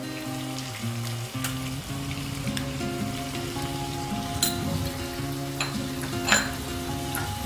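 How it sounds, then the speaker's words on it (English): Chicken and spices sautéing in a pan over a medium flame give a continuous close hissing sizzle with occasional small clicks, set against steady background music. "Saute this well. Saute this in a medium flame."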